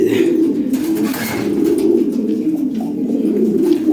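Continuous low cooing of pigeons close by, overlapping burbling calls with no pauses.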